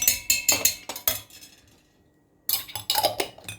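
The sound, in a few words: spoon adding ghee to coffee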